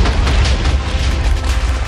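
Minecraft explosion, heard as a loud, dense boom with rumbling low-end blast noise that holds steady for under two seconds, with no voices over it.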